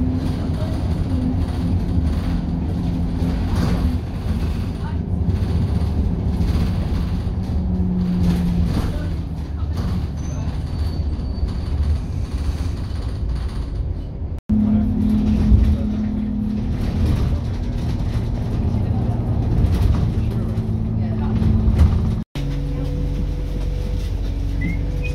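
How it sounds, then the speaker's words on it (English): Interior ride aboard an Arriva Yorkshire Alexander Dennis E200 MIDI single-deck bus heading into Wakefield, with a steady low engine drone and road rumble throughout, a couple of brief dropouts, and no talking. "here's our bus back into Wakefield. Little E200 MIDI YY14LFW, otherwise known as 1010"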